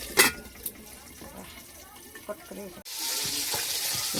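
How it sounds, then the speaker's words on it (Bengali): Fish frying in a pan that is partly covered: a faint background crackle, then a sudden steady hissing sizzle that swells to a loud, close wash, with a soft voice heard early on. "মাছটা একটু ভেজে নেবো ভালো করে।"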